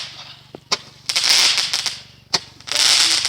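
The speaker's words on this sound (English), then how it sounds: "And Daddy's shooting off Roman candle." A Roman candle firework is shot off outdoors at a New Year celebration: sharp popping bursts followed by crackling, hissing showers, repeated twice in quick succession and fairly close.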